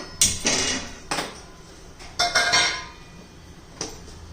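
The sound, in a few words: griddle (tawa) being put on the stove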